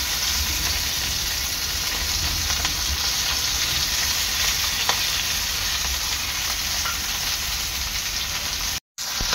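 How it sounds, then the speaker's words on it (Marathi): Pomfret fish frying in a pan, a loud, dense, continuous sizzle with no voices, broken by a momentary cutout near the end. "आपली पापलेट एका साइडने तळून घ्यायची आहे"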